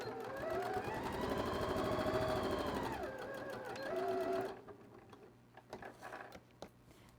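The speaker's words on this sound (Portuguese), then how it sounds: "vou apoiar outro retalho de tecido e vou costurar" A sewing machine stitches scraps of fabric together in a quick, steady mechanical whir for about four seconds, then stops, leaving faint clicks and handling noises.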